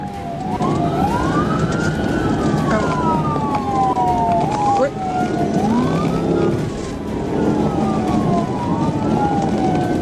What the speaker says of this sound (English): When emergency lights and siren were activated